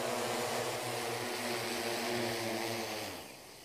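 Agricultural spraying drone flying, a loud steady propeller buzz with layered tonal whine that shifts slightly and fades somewhat near the end, no voices.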